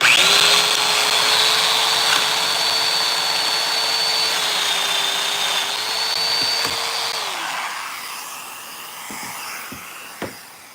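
A power tool cutting a wide mortise in wood for a chair, running loud and steady with a sustained whine for about seven seconds, then winding down, followed by a few light knocks.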